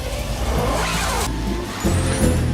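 A small engine whines and revs continuously at close range, its pitch rising and falling and then surging louder near the end, fitting a remote-controlled toy car carrying a mounted camera as it drives.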